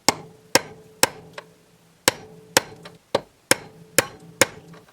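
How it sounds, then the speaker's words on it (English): Hammer blows on a punch driving a bearing out of a part for a scaled-down bronze cannon barrel replica, about ten sharp metallic strikes, close and loud, at an uneven pace with brief ringing decays and no talking. "punch out the bearing"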